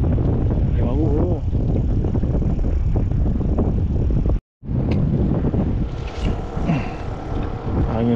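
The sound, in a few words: strong wind by a river while fishing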